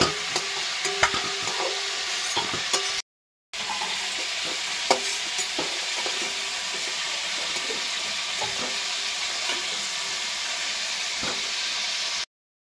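Chicken frying in hot oil for curry, a steady loud sizzle with repeated scraping clinks of a slotted spoon as pieces are lifted out and drained, broken by two brief silent gaps.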